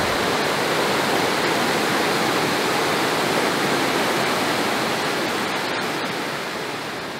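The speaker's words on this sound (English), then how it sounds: "Look at that, water rushing by." A winter stream rushes past ice and leaves on a camping trip, a loud, dense, continuous roar of running water heard close up, steady throughout and fading slightly at the end, with no voices.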